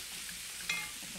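Balsamic vinegar sizzles as it deglazes a pan of cooked onions, making a short, steady hiss with a brief sharper crackle partway through, close and alone.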